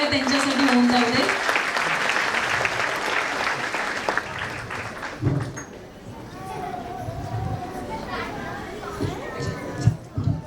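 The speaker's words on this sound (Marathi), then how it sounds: "जोरदार टाळ्या त्यांच्यासाठी होऊन जाऊ दे" Applause from an audience at a school anniversary celebration for deaf children in Dadar, starting loud and dense, then thinning into scattered claps and children's voices in the second half.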